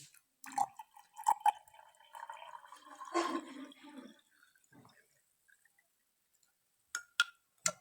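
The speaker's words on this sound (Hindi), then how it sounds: "तो अभी इसमें पानी ऐड कर देना है।" Water is poured into homemade orange squash in a jar, giving a few seconds of close splashing and trickling, then near silence broken by a couple of brief clicks at the end.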